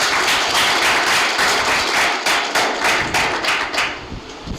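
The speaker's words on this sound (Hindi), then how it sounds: "तालियां बजाओ आप सभी।" Audience at a spiritual class clapping together steadily for several seconds, dense rhythmic applause filling the room without talk.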